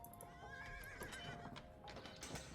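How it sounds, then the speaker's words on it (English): In the Age of Empires II video game a newly trained horse rider's horse gives a loud whinny with clip-clopping hooves, game sounds mixed in under a steady background hum. "We have trained a horse rider."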